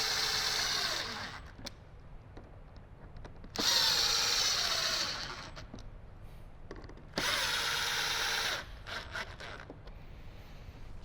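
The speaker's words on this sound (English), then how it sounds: "So from here you can screw this down." A power driver runs T15 screws into a speaker during a Jeep Wrangler JK speaker install: two bursts of whining motor, each a couple of seconds long, with quieter handling noise around them, close up.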